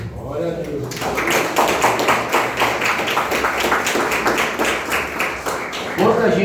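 A church congregation claps its hands together in a steady, dense rhythm of sharp claps, with voices mixed in beneath the clapping.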